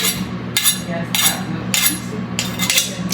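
A kitchen knife is sharpened before cutting an onion, with four or five rhythmic metallic scraping strokes at regular intervals over a low background hum, close and fairly loud.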